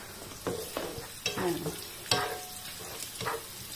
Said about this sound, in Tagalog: So, dapat magbo-brown lang po yung garlic.